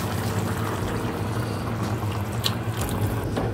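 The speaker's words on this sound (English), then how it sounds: "Pour some hot water in here." Hot water pours into a pot of chicken and squash curry, a steady close splashing and gurgling stream with a few brighter splashes toward the end, no voices.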